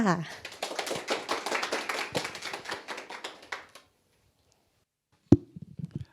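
Brief clapping from a small audience at a seminar in a hall, a scattered burst of hand claps that fades out after about four seconds, then silence before a speaker begins.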